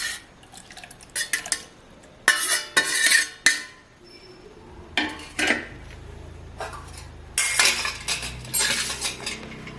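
A metal spoon clinks and scrapes against a bowl in repeated close bursts while fresh ice apple (nungu) palm fruit is dropped and stirred into boiled, cooled milk, with faint liquid sloshing between strokes.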